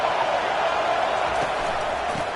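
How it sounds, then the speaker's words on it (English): A football stadium crowd at a college game roars on third and long, a loud, steady wall of cheering and noise throughout, with a faint voice underneath. "Here comes the crowd trying to make it tough on 3rd and long."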